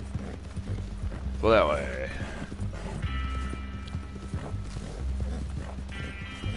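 Horse hooves clip-clop steadily in Red Dead Online, with a loud whinny near the start and the rider's voice speaking over the galloping rhythm.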